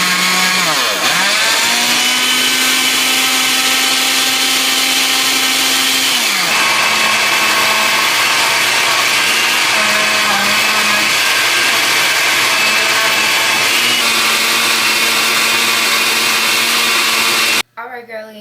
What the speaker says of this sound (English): We blended all the ingredients.